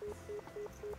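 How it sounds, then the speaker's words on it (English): Telephone dialing tones in a visual novel video game: four evenly spaced beeps ringing out alone in a quick, regular rhythm. "Why is no one picking up the phone?"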